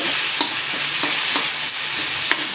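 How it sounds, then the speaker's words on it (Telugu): Steady loud sizzling of ivy gourd pieces frying in a pan, with occasional scraping clicks from stirring. "దొండకాయలు కూడా ఫ్రై అయిపోయాయి ఇక దొండకాయ కూడా ఫ్రై అవుతుంది"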